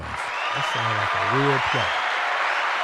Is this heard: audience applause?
yes